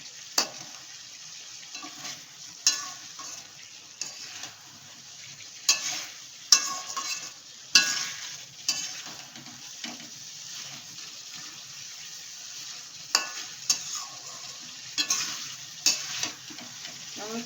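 Fried potatoes and paneer are stirred in a sizzling pan for a vegetarian taro and paneer dish, with a soft, continuous fry under repeated scraping clatters of the spoon, close up.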